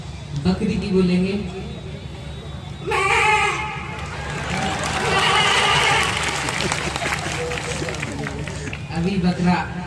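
A person mimics a goat's bleat with wavering, quavering vocal cries, loud and close, mixed with crowd reaction and some talking around it.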